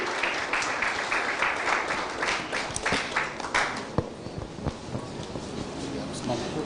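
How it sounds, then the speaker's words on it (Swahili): Audience applause at a Kenyan Muslim community celebration, steady clapping from many hands through the whole stretch with a few sharper claps standing out near the end. "Makofi kwake, makofi tafadhali,"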